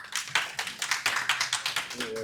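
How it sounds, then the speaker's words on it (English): A small audience claps to welcome a speaker at a health and wellness talk, a short burst of uneven individual claps, fairly close, with a voice briefly at the end. "Please round of applause"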